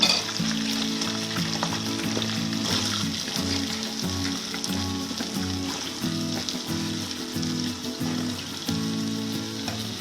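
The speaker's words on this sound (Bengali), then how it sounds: "আলুগুলোকে ভাজার সময় একটু নুন দেব" Potatoes frying in a pan of oil, a constant close sizzle with occasional stirring scrapes, running the whole time without speech.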